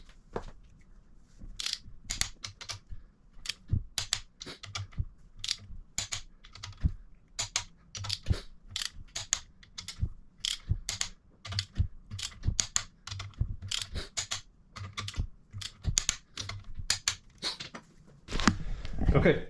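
A torque wrench tightens engine bolts on a Subaru Sambar KS4 truck engine during a rebuild, giving rapid, irregular sharp clicks close up, with faint handling noise between bursts.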